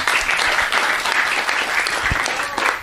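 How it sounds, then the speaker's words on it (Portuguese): Audience applause fills the hall in a steady, dense clapping wash at a live talk event, loud and continuous throughout with no voices over it. "Uma salva de palmas."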